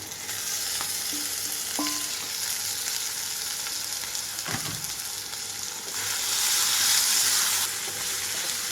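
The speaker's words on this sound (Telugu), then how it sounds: "ఇప్పుడు నేను ఇందులోకి ఫ్రై చేసి పెట్టుకున్న చికెన్ మొత్తం వేసేస్తున్నాను" Fried chicken pieces are tipped into a pan of onions and ginger garlic paste for a catering-style chicken fry, giving a continuous loud sizzle with a brief clink near the middle and a surge in hiss toward the end.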